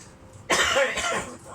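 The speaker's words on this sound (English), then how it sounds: "Don't worry about the coughing." One harsh, close cough erupts suddenly in a home kitchen during ramen cooking, then trails off into quiet.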